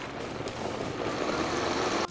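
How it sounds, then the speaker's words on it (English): A blender runs on high, pureeing a braising sauce for chicken tinga, a steady dense whirring roar that holds continuously and close up, then cuts off abruptly at the end. "And then we're just gonna blend on high until smooth."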